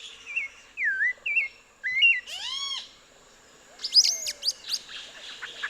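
A sulfur-bellied flycatcher near an orange grove gives shrill, squeaky-toy calls, several sharp rising and falling squeals in quick bursts with a short pause between, close and clear over soft background birdsong.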